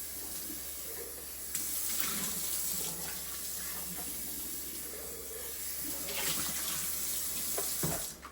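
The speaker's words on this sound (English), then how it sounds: "I'm just going to give it a little rinse out." Running water pours and splashes steadily into a glass blender jar being rinsed at a kitchen sink, a continuous close hiss with brief clunks of the jar, no talking.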